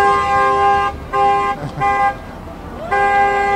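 A car horn honks in long sustained blasts at a drive-thru Eid al-Adha celebration, loud and close, with brief gaps between blasts as a voice speaks.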